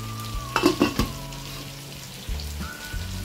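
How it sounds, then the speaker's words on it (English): Onions frying in a pot for biryani sizzle steadily, broken by a cluster of clinks and scrapes near the start and another spoon knock later on. "we'll fry the onions"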